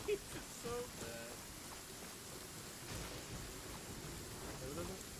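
Steady rain with low rumbling thunder falls in the game Genshin Impact, a faint continuous wash with a brief voice near the start.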